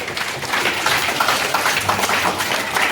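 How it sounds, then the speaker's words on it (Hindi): Audience applause for the jury panel at a school Hindi quiz competition, a steady, dense wash of many hands clapping that carries on for the whole stretch without pause. "मैं एक बार आप निर्णायक मंडल के लिए तालियां बजाना चाहते हैं।"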